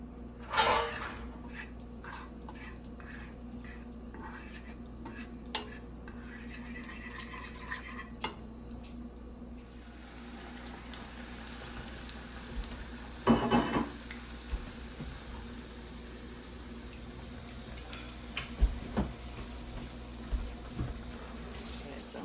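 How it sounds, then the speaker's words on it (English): Eggs being stirred in a pan during a breakfast cook, with scattered scrapes and utensil clinks over a low steady kitchen hum, a few sharper knocks standing out near the end. "I'm just gonna stir it a little bit."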